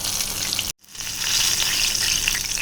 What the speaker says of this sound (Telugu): మంచి గోల్డెన్ బ్రౌన్ కలర్ వచ్చే వరకు ఫ్రై చేసుకుందాము.